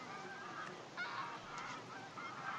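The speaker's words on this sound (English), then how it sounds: "I can hear lots of grey-lag geese." A flock of greylag geese honking at a distance at a reservoir in winter, repeated calls overlapping over a quiet open-air background.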